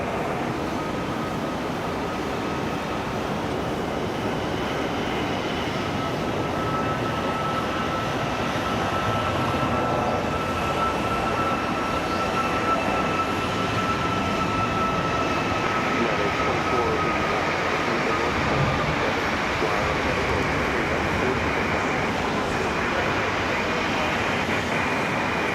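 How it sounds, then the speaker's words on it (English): A United Boeing 737 taxis at Raleigh-Durham International Airport, producing a continuous broad jet rumble with a thin, steady whine that holds at a moderate distance for the whole stretch. "So here we go, United in that 737 on the move."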